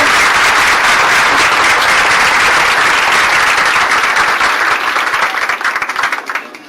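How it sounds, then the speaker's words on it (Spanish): A lecture-hall audience at an academic course gives a dense, steady round of applause that stays full for about five seconds and then thins out and fades at the end. "yo creo que hay que recibirlo con un gran aplauso."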